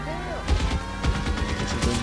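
Gunfire in a shootout in the L.A. Noire video game: bursts of sharp shots crack in quick clusters over a steady background, with voices mixed in.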